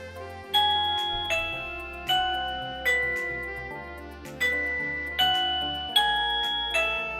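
An X9 wireless doorbell chime plays one of its tunes, a clear repeating sequence of bright electronic ding-dong tones, each note struck and slowly fading, steady and close.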